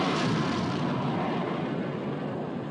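Naval guns firing in a war film about the hunt for the Bismarck, heard as a sustained loud roar of broadband rumble that lingers at a steady level without distinct separate blasts.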